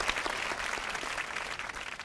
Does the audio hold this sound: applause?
yes